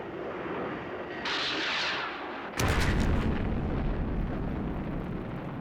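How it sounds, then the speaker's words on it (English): A live missile explosion in the Thunderbirds puppet show bursts out as a heavy, sustained boom with a rumbling roar that follows a steady rushing engine-like noise and keeps on loud to the end. "And remember, use a live missile this time, Alan."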